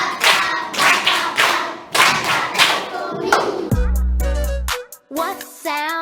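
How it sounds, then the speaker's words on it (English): Young children on a kids' TV show clap for themselves in a quick, lively burst of close hand claps lasting a few seconds, followed by scattered thumps and taps. "Clap for yourselves."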